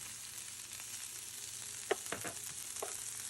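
Asparagus spears frying in a hot pan give a steady, close sizzle throughout, broken by a few sharp crackles and pops near the end, with no voices.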